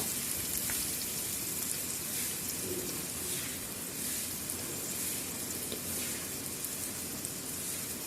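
Onion and garlic sizzle in hot oil for Konkani tempered rice, a steady close crackling hiss that runs evenly throughout with no voices.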